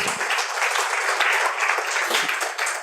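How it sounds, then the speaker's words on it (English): An audience at a sales training session applauds, a dense, steady wash of clapping from many people lasting the whole stretch. "Give some applause for yourself, please."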